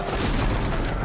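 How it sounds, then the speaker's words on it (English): A stun grenade going off in a video game: a short, dense burst of blasting noise lasting about a second, loud and close, with no talk over it. "Stun grenade out."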